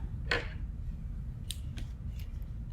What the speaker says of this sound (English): And there you use your scissors.